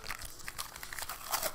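Cardboard parcel being opened with scissors, a close run of crinkling, crunching cuts and rustles that grows busier toward the end, with no talk over it.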